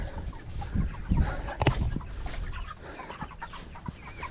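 A flock of about 70 to 75 chickens in a mobile tractor pen on a small dairy farm clucks and murmurs close by, with scattered squawks and rustling in a busy, continuous chatter.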